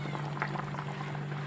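Fish curry boils in a pot on the stove, a brief steady bubbling simmer with a low hum underneath, close and without voices.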